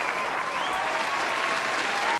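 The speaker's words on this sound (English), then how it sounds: "Crowd's going wild for Grounder the Ferret." A crowd claps and cheers in steady, dense applause, continuous and fairly even for a couple of seconds before cutting off abruptly.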